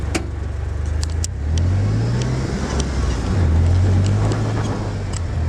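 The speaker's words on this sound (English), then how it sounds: "It's just idling by itself." A Joyner Renegade R2 4x4 utility vehicle with a five-speed manual gearbox idling on its own, a low steady engine drone that rises slightly in pitch at times, with faint clicks and some breezy noise.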